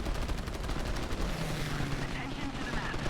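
Dense, continuous gunfire and explosions from a competitive video game match, loud and unbroken throughout.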